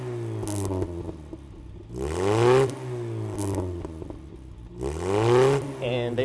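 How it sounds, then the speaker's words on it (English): A Land Rover Series IIA engine with an NRP exhaust system revs up twice, each rise swelling into a throaty, rattly roar before settling back to a low, uneven idle, heard close. "They all have an NRP exhaust system,"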